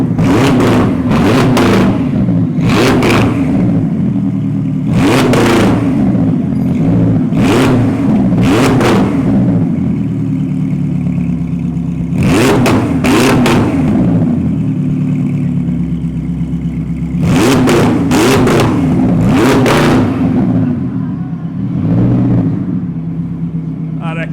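A Koenigsegg Jesko engine revs repeatedly against a 4,000 rpm limiter, loud close bursts in rhythmic clusters of two or three blips over a continuous idle drone.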